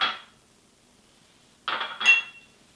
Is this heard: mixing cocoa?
yes